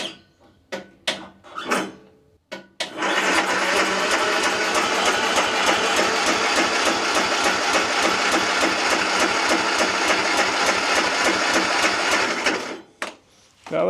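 A Troy-Bilt lawn mower engine cranks briefly, then fires up and runs with a loud, steady mechanical clatter for about ten seconds before cutting out.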